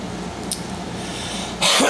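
A single dry cough from a sick person indoors, short and close, standing alone over a quiet room hum.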